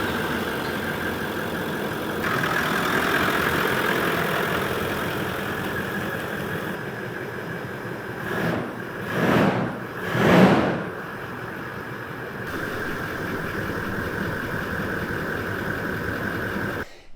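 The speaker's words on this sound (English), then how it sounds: "I am going to overlay a little bit of an exhaust clip for you" A Toyota 70 Series Landcruiser sits idling, its quiet, steady exhaust hum running throughout, with a few brief louder swells near the middle and no speech.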